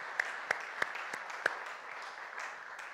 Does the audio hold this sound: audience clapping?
yes